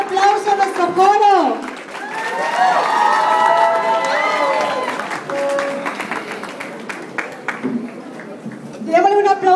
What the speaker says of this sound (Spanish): darle un fuerte aplauso a nuestro coro